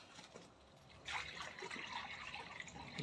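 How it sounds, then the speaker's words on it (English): Water poured into a stone birdbath fountain with a water pump in a zen garden setting: a soft, faint trickle that swells into a fuller splashing stream about a third of the way through and keeps running. "Now adding water to it."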